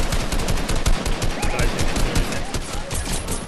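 Rapid gunfire from Fortnite Battle Royale on PS5, a dense, continuous string of loud shots layered over one another with no pauses, and no voices in between.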